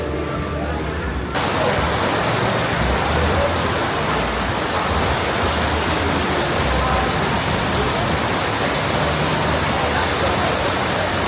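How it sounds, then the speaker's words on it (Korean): A heavy rainy-season downpour in Vietnam pours down in a loud, dense, unbroken roar of rain, coming in abruptly after a quieter opening and staying constant to the end. "정말 장대비 같은 비가 오는데, 와, 어마어마 소리도 크게 나옵니다."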